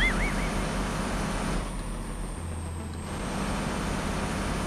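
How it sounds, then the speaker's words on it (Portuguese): Heavy truck in Universal Truck Simulator, its engine brake producing a continuous loud roaring drone with an air-brake hiss and a low rumble that dips midway before returning. "Olha lá, ó o motorzão, freio o motor."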